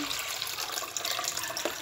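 Water pours from a jug into a slow cooker holding jars, a steady close hiss of splashing liquid lasting a couple of seconds.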